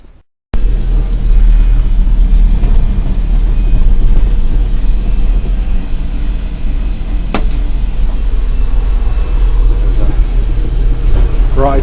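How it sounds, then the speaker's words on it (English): A heavily loaded Smith Cabac electric milk float, an ex-dairy truck, grinds up a steep 1-in-8 hill on Coles Hill, with a steady low motor drone and whine close by and a few faint clicks over it. "very heavily loaded milk float"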